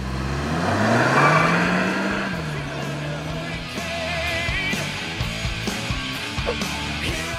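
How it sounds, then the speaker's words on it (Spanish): An efficient Volkswagen Vento 1.4 TSI with a DSG gearbox accelerates hard from 0 to 100 km/h. The engine note climbs quickly in pitch, then drops at a quick gear change and rises again, loud and close, with no talk. "Una aceleración excepcional, lo que habla de la gran entrega de fuerza de este motor tan eficiente"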